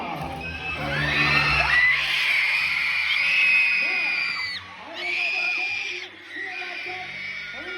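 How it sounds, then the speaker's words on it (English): An audience at a Medieval Times show, including many young students, raises a loud sustained cheer of shouts and screams that fills the arena, dips briefly, then swells again twice. "I need all of you to raise a mighty cheer."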